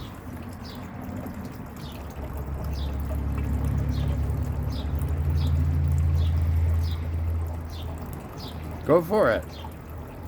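Water pouring and trickling steadily as a bath for a pet parrot indoors, a soft continuous flow that fades out before a voice speaks near the end, with faint bird chirps in the background.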